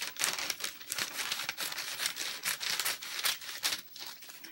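Scissors cutting paper for a homemade mask, a close, fairly quiet series of crisp snips and paper rustles repeating steadily.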